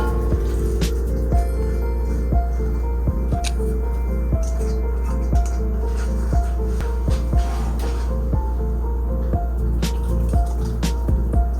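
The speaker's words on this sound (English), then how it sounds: "go ahead and throw this back into the pan to pour the sauce over" Thick gluten-free Alfredo sauce sloshes and drips as it is poured over pasta in a pan, with wet squishing and scattered small splats over a steady low background hum.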